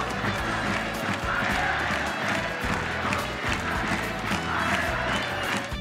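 Football supporters of Fagiano Okayama at a stadium chant a rhythmic call for former player Oshitani, a dense, steady crowd roar filling the whole clip.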